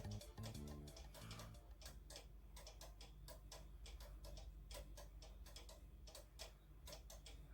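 A restored cuckoo clock ticks steadily at close range, its even tick-tock beats repeating alone with no voices, a spoon hung in place of the usual pendulum.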